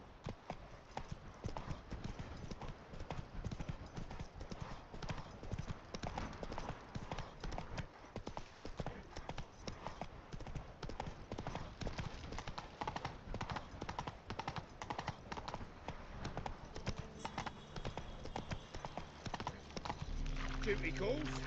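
Roach the horse gallops in The Witcher 3 with rapid, rhythmic hoofbeats that continue steadily throughout, and a voice speaks over them.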